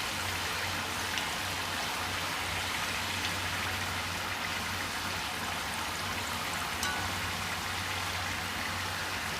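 Murukku made of lentil and rice dough deep-frying in hot oil, a steady fine crackle and bubbling fizz that holds even and close throughout, with no speech.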